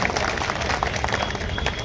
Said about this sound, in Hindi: एक जोरदार तालियां बजाते हैं